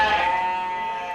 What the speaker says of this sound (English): sheep are once again being sold at auction